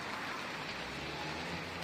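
Steady rain falls outdoors as a dense, even hiss of drops at a moderate level, with no voices over it.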